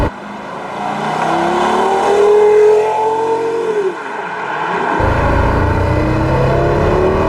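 A Porsche Carrera GT engine revs up at about quarter throttle, its pitch climbing and holding loud and close before dropping away, then settling into a deep, steady rumble.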